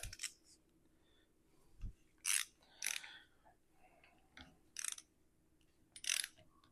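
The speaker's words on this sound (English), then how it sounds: "torque these up in an opposites fashion." A ratchet wrench tightens crown wheel bolts on a Classic Mini gearbox differential. Several separate bursts of metallic clicking and ratcheting come in short irregular strokes with pauses between them, close up in a quiet workshop with no talking.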